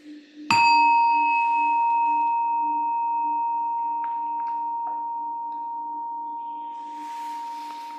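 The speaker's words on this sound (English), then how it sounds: "Listen to the bell, the chime." A single meditation bell is struck once and rings out with a clear, pure tone that fades slowly over several seconds, alone and close in an otherwise quiet room.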